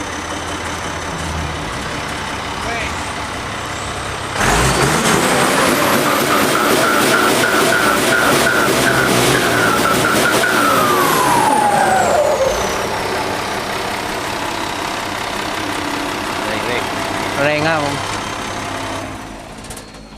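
A modified Ford 8210 farm tractor with a turbo and titanium exhaust pipe idles, then revs up loudly for several seconds before easing back down, with a rumbling tone throughout and faint talk in the background.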